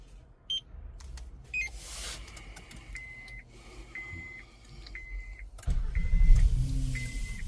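A Honda Accord fitted with an aftermarket remote smart key gives a few short electronic beeps and a series of repeating chirps, then its engine starts with a low rumbling idle near the end.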